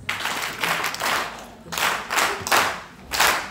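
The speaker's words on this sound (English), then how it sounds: "Let's give him a quality clap for the first part." An audience at a project launch event in Rustenburg claps in repeated bursts of dense applause, rising and falling in waves, loud and close throughout.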